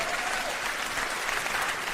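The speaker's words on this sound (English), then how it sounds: "you see how they clapping?" Steady, dense applause from a comedy club audience, a continuous wash of many hands clapping at an even loudness throughout with no pauses.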